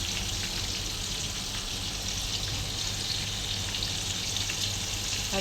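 Fish, including a small milkfish head, sizzles and fries steadily in a pan for lunch, with a dense, continuous crackling hiss throughout and no talking.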